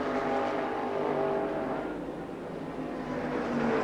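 NASCAR race cars running on a speedway, a steady loud engine drone with a slight pitch sway, as if the cars are circling together close to the listener.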